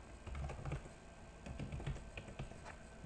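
Typing on a computer keyboard, a quick run of soft close key clicks in two bursts separated by a short pause, faint and alone without speech.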